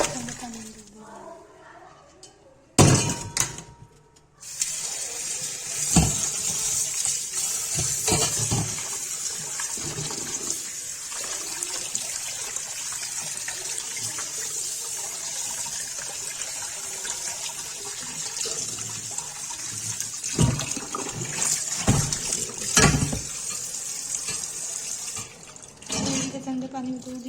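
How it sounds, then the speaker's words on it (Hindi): Chicken liver being washed under cold running tap water in a kitchen, a loud continuous gush and splash that stops and restarts with sharp clattering handling sounds, while a voice talks over it. "अब इसको ठंडे पानी में धो के"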